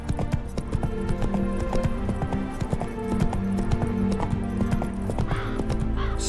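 Roach, the horse in The Witcher 3: Wild Hunt, gallops with rapid, continuous clip-clop hoofbeats close up, with a neigh toward the end and game ambience underneath.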